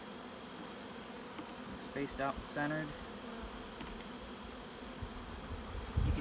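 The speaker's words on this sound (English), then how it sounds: "You can see we still got a lot of bees left in the nuke box." Honey bees hum in a steady close swarm while queen splits are installed on a bee farm, and a person speaks briefly over the buzzing.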